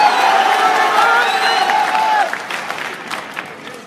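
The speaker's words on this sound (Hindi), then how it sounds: "आज आप तालियां मारते हैं, नारे लगाते हैं" A rally crowd in Pathanwadi, Malad claps and cheers, with shouts and whoops rising over sustained applause before it settles into scattered clapping and fades.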